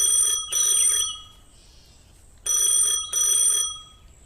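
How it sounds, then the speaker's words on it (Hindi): A phone rings in an office in two double bursts of bright electronic trilling, loud and close, separated by a pause. "तभी उसका फोन बजता है"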